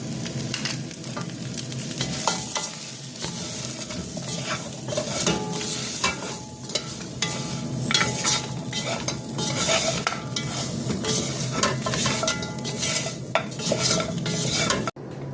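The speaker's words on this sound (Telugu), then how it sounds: "ఇవన్నీ ఇలా వేసి ఫ్రై చేయాలి." Cumin powder, masala and onion-garlic powder frying in a pot for an Arabic mutton thasreeb, with a steady loud sizzle and continuous stirring scrapes of a utensil against the pan throughout; no speech.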